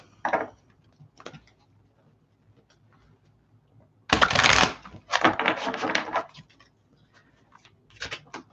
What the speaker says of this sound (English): Okay, 2 more shuffles.